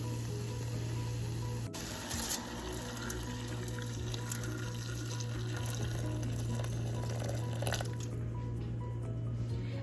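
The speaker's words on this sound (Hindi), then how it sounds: "अब इसमें मैं ऐड करूंगी 2 कप पानी और इसको गलने के लिए छोड़ दूंगी 30 to 40 मिनट्स के लिए" Water splashes and sizzles into a hot pan of cooking mutton chops, a continuous bubbling, frying hiss with faint drips and clatter, fairly quiet and without speech.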